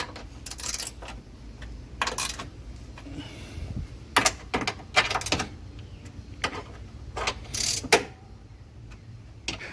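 A ratchet tightens fittings on a Mitsubishi A/C condenser, producing bursts of quick mechanical clicking in short uneven runs, close and fairly loud, with quieter gaps between strokes.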